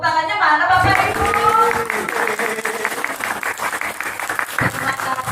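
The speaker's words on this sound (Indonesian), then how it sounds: "tepuk tangannya mana Bapak Ibu?" Audience of parents and children clapping at an Isra Miraj celebration in a neighborhood prayer hall, a loud burst of applause running throughout with voices mixed in.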